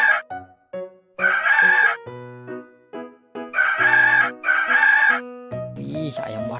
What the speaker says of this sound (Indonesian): ada ayam jantan teman-teman.